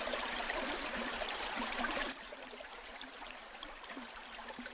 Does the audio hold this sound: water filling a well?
yes